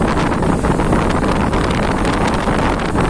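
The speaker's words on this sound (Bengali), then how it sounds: "ঢেউয়ের পানি কিভাবে মেরিন ড্রাইভে উঠে আসে আপনারা দেখতে পাচ্ছেন।" Cyclone storm waves on the Bay of Bengal wash over the Marine Drive coastal road: a steady, loud roar of surf and gusting wind that buffets the microphone throughout, with no voices.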